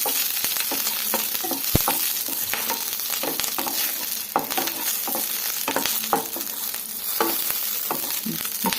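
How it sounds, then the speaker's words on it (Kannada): Green chillies fry in hot oil for a peanut chutney, giving a steady close sizzle with scattered crackles and pops and occasional stirring clinks, with no voices. "ಮೆಣಸಿನ್ಕಾಯಿ ಸೇರಿಸ್ಕೊತಾ ಇದ್ದೀನಿ ಆಯಿಲಲ್ಲಿ ಹುರ್ಕೊಂಡು ಹಾಕೋದ್ರಿಂದ ತುಂಬ ಚೆನ್ನಾಗಿರುತ್ತೆ ಚಟ್ನಿ"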